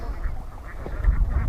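Many ducks on a duck farm quack together in a steady, dense chorus, close and fairly loud, with no talk over them.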